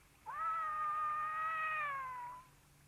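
A cat in a Catalan cartoon lets out a single drawn-out meow lasting about two seconds, clear and close, rising at the start and fading at the end.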